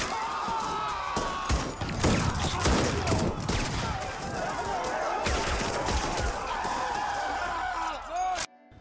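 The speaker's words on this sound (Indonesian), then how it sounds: "Sang jenderal terus memerintahkan pasukannya menembaki masyarakat tanpa ampun." Dramatized gunfire for a story of a general ordering troops to shoot down a crowd in India, with dense bursts of shots and thuds running through, under steady narration and crowd commotion.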